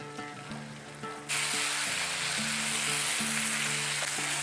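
Tomato paste with turmeric and chili powder sizzles and fries steadily in a pan over low to medium flame, a loud continuous hiss with faint clinks early on.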